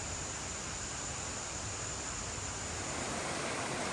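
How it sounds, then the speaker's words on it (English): A waterfall on a jungle trail in Palau sends out a steady, even rushing noise that fills the whole stretch, unbroken and without voices. "the sound of the waterfall gets louder"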